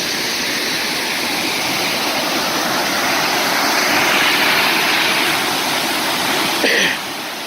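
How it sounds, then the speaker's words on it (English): Ribbon Falls in Kananaskis, a waterfall cutting down through rock, roars as a dense, steady broadband rush close by, loud and unbroken throughout. "That's kind of where there's a little waterfall on top that cuts down through that rock."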